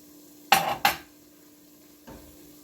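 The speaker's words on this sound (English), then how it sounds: "Now I'm going to add my chorizo in." Chorizo goes into a pot of green pea stew with two sharp clattering knocks against the pot, then a softer bump a moment later, in a quiet kitchen.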